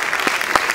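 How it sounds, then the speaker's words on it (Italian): Brief applause of encouragement from a theatre audience at a concert, a short burst of clapping with a couple of louder claps standing out. "farei un applauso di incoraggiamento, ragazzi"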